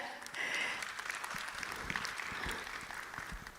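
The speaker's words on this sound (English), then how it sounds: "But please, a round of applause for her." Audience applause at a youth entrepreneurship dialogue event, a steady wash of clapping from a crowd that holds at an even level for a few seconds without letting up.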